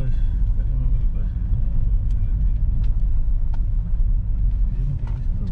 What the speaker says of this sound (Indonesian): Ini mobil bus tuh.